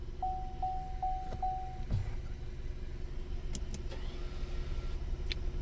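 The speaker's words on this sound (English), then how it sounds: "on this car, it has electric park brakes in the back. On the caliper, there's a little motor" An electric park brake motor on a car's rear brake caliper runs under a steady low hum: a string of short tonal pulses early on, then brief higher whirring bursts. No one speaks.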